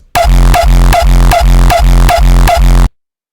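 A remade kick drum with a blended tail, shaped by EQ, compression and Ozone 10, thumps in a steady, loud run of about eight hits, each with a booming low tail, then stops dead.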